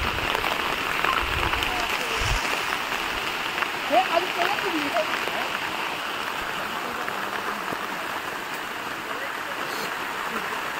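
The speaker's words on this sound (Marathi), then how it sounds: "पाऊस आलेला आहे, पावसामध्ये आपली छत्रे काढलेली आहेत." Rain falls in a jungle as a steady, moderate patter and hiss under a broad wash of noise, continuous for the whole stretch, with a few brief louder knocks early on and no talking.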